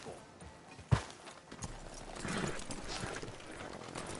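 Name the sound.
horse hooves clip-clopping, from a PS4 video game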